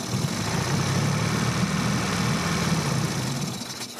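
A 4-stroke outboard motor runs loud and close with the choke pushed in, a dense steady rumbling drone that holds and then eases slightly near the end.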